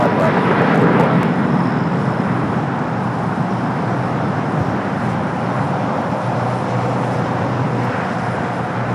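An airliner taking off from runway 25 right at LAX, a loud broad roar of jet engines heard from nearby that holds steady throughout, with faint radio chatter underneath.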